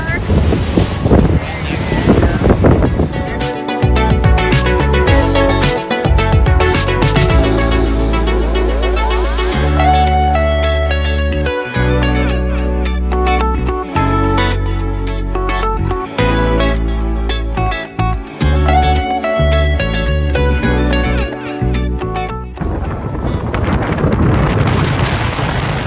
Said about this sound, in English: This is the Meltemi. Meltemi wind.